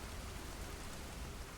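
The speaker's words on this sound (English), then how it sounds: "Can you hear the rain?" Steady rain falls in an even, hissing wash, faint and continuous with no voices over it.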